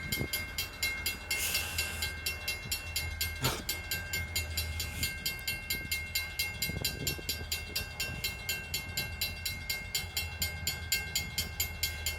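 An oil tank train rolling right behind a loaded coal train in Mount Hope, West Virginia, with steady rhythmic wheel clatter over rail joints, a continuous rumble and a brief horn-like tone, heard from trackside without talk.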